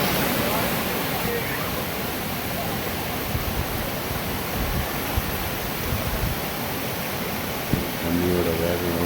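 Sinnakallar waterfall in Valparai, fast monsoon water rushing in a dense, loud, continuous roar, with a voice speaking faintly beneath it.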